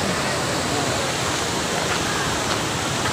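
Talon Pari Falls, the second falls, pours with a loud, steady broadband roar of water from start to finish.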